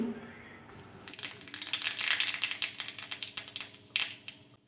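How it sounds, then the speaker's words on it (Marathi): Mustard seeds crackle and pop in hot oil, a rapid, irregular series of sharp little snaps rising in intensity, close by. "मोहरी चांगली तडतडल्यानंतर जिरे घातले"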